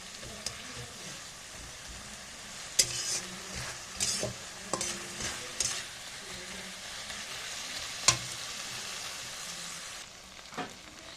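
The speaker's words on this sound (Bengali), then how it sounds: "গ্যাসটাকে একটু স্পিড বাড়িয়ে দিলাম হাই ফ্লেমে রেখে আমি একটু মশলাটা কষিয়ে নেব" Spice masala for ghughni fries in a little oil over a high gas flame, a steady sizzle running throughout while a spoon scrapes and stirs the pan in several sharp, separate strokes.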